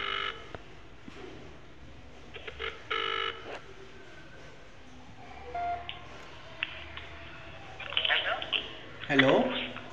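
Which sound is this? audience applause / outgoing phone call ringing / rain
outgoing phone call ringing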